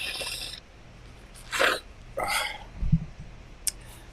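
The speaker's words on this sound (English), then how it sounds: "don't mind me blowing my nose" Someone with a cold blows their nose in a few short, breathy snorting bursts, fairly close and soft, separated by quiet pauses.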